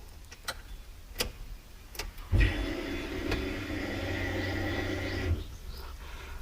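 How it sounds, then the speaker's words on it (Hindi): Fuel pump of a Tata Tiago buzzing after the ignition is switched on: a faint, steady electric hum lasting about three seconds, preceded by a few scattered clicks and ticks in a quiet car. "ये फ्यूल पंप की आवाज़ है।"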